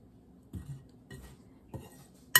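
A spoon works cookie dough spiced with freshly ground cloves around a bowl, making a few soft, spaced scrapes and knocks, then one sharp clink at the end, all fairly quiet with no talking.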